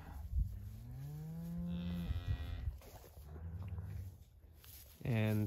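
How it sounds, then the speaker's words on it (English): A ranch cow with a young calf lets out a long, drawn-out low moo, followed later by a second loud, close, abrupt bellow, with quieter shuffling noises in between. "the cow is a bit frustrating because she will not recognize the calf at all"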